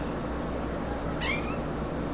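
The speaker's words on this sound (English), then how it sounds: "I guess my cat can hear me because he's yelling." A pet cat lets out a single loud, drawn-out meow indoors, rising then falling, over a steady background hiss with no one talking.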